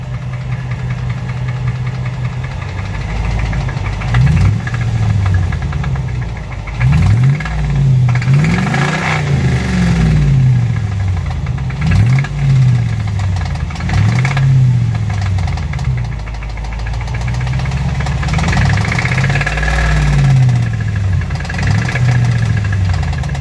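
A 5.7 Hemi engine with a failing bearing revs repeatedly, its pitch swooping up and back down in several blips over a constant knocking bottom end, loud and close with no talk.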